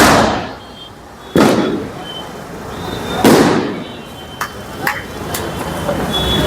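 A sky shot firework is lit outdoors, giving two loud rushing whooshes followed by sharper pops and crackles from other fireworks nearby, against a background of festive noise.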